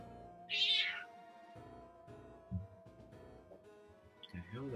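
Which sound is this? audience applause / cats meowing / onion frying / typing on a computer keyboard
cats meowing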